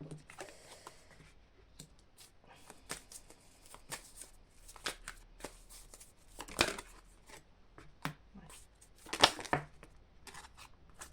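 Cards are shuffled for a card reading, giving soft papery riffles and flicks in an irregular stream, quiet and close, with a few sharper snaps.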